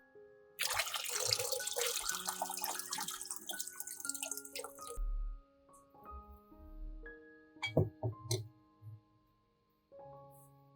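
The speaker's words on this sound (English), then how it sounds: "After 15 minutes, pour out the water." Soaking water is poured out of a jar of fresh tomatoes in a bright, splashing stream for several seconds, followed by scattered drips and small knocks of glass.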